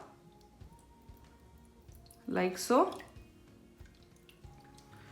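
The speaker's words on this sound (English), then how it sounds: "So I filled the cup and now putting in the water," Water is poured into an electric egg cooker in a brief splashing burst lasting under a second, with a voice speaking quietly around it.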